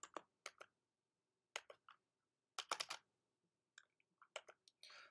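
Computer keyboard typing a command, heard as short bursts of crisp, close key clicks separated by silent pauses.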